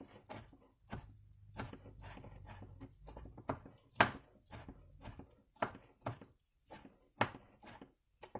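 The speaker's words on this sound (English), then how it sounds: "we are just going to cut this crab up" A knife chops through king crab on a cutting board, making a series of close, irregular thuds and cracks.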